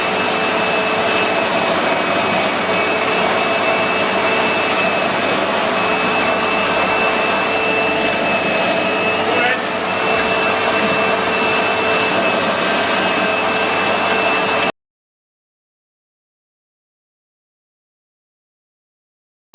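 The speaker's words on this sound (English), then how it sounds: "just stick the hoover in each one as I'm turning it over, and that gives me the best chance of getting everything out" A hoover sucks debris out of the engine cylinders of an Audi RS4 while the engine is turned over. Its close, loud, steady roar runs continuously for about fifteen seconds, dips briefly once, then cuts off into silence. No one speaks.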